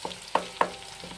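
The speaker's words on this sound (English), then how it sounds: "and the onions sizzling away" Chopped onions sizzle softly in hot oil in a pot for egusi soup, with a few light stirring clicks and a faint fry hiss close by.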